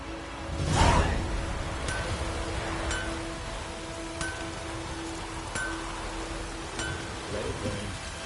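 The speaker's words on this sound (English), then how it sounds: "Let it rain." Steady rain falls in The Witcher 3, a constant broadband hiss throughout with a louder whooshing swell near the start and faint tonal game ambience beneath.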